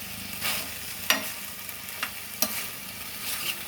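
Cluster beans stirred in a pan over a medium flame, a soft sizzle running underneath while a spoon scrapes and knocks against the pan in a few sharp strokes, with no talk.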